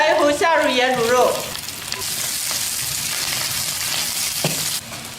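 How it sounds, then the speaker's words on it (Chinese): Cured pork hitting hot lard with scallion, ginger, garlic and dried chilies in a wok, a loud hissing sizzle that settles into steady crackling frying, with a voice briefly over the start. "料头炒香以后，下入腌猪肉"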